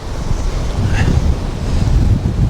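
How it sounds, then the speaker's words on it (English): Strong wind roars and buffets the microphone on a Los Angeles surf-fishing beach, with ocean surf rumbling underneath. The gusting noise is steady and close for the whole stretch, and no one speaks. "This wind is insane, guys."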